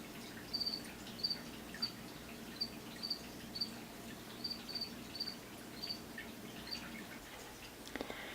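A feeder cricket chirps in short, evenly spaced bursts, repeating about a dozen times against a quiet, faintly humming room.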